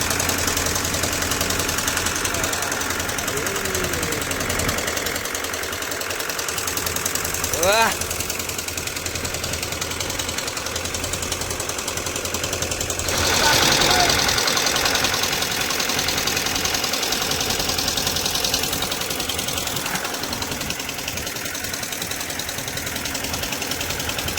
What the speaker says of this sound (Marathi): सिद्धूला बोट चालवताना